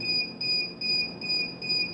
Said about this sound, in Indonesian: alarm low baterai